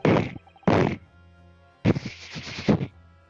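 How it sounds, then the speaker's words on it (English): A firecracker set off in the video game The Great Ace Attorney gives three sharp, punchy bursts: two short cracks close together, then a longer rattling volley of snaps, loud and near with quiet gaps between. "I told you it was the firecracker. And I just set it off."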